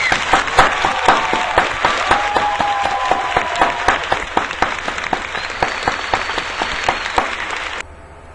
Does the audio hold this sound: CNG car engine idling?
no